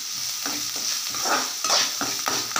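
Raw banana mixture sautéing in a pan, a continuous close sizzle with regular scraping stir strokes roughly every half second.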